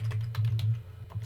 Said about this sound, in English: by typing that in